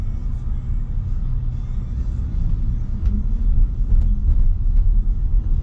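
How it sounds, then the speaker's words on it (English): A Tesla on Full Self-Driving beta v12.5.4.2 pulls away, its interior filled with a low, steady road rumble that swells slightly toward the end; there is no clear engine note and no speech. "So like that, it's accelerating semi-rapidly."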